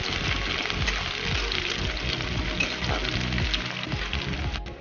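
Chopped onion fries in hot oil with dried red chillies, giving a steady, close, dense sizzle with crackling bubbles that continues without a break and with no voices.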